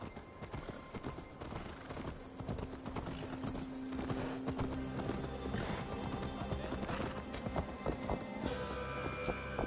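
Horse hooves clip-clop in a steady rhythm, with a brief whinny and busy ambient noise around them, in the video game Assassin's Creed Valhalla.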